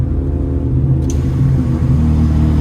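A car with its catalytic converter removed idles loudly, with a steady deep exhaust rumble throughout and a brief sharp pop about a second in.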